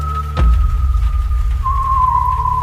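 A single long, steady whistle holds one eerie note, dipping slightly in pitch near the end, over a low rumble with a dull thud early on.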